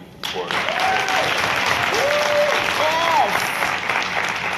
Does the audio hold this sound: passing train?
no